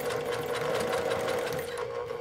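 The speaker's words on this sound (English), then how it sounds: "I'm gonna continue sewing" A sewing machine stitches fabric for a llama plush with a pocket pouch, running at a steady close whir with a fast, even needle rhythm and no talking.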